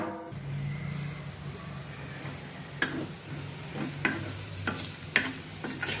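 Pithla, a thick gram flour curry, cooking on a griddle, giving a soft continuous bubbling sizzle. A few sharp spoon scrapes and taps come through close up near the end, with nobody talking.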